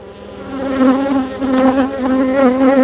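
Honeybees buzz loudly and continuously at a hive on the Mediterranean coast during swarm making, a dense, steady drone close by with slight swells in intensity.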